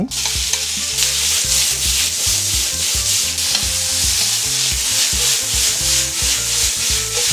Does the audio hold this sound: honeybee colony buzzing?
no